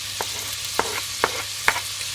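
Onion and speck frying in a pan as the base for sauerkraut: a steady loud sizzle with a few sharp pops and spatters at even intervals, no talking.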